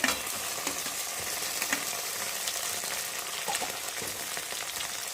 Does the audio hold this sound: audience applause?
no